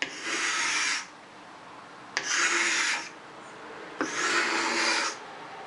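An unsharpened paint scraper is drawn across wood in three separate close scraping strokes, each a dry, raspy rub lasting about a second with short pauses between.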